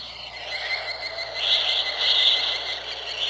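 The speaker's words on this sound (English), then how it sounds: "So that's the sound of the ants." A recording of ants: a steady, dense high-pitched buzzing hum, continuous and fairly close, rising slightly in intensity midway, with no voices.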